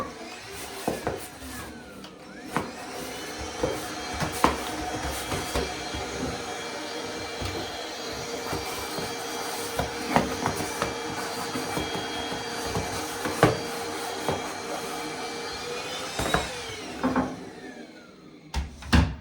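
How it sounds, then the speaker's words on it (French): Vacuum cleaner suctioning dirty storage baskets in a bathroom, a steady droning whine with scraping and knocking of the nozzle against the baskets throughout. "on va les aspirer également, hein, puisque vous voyez qu'elles sont un petit peu sales"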